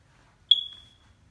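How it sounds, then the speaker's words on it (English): One short, shrill smoke alarm chirp sounds in an otherwise quiet room, fading quickly. "Smoke alarm is beeping."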